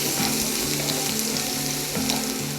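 Ginger and garlic sizzle steadily in hot oil, with the scrape and clink of a spoon stirring at intervals, close and continuous.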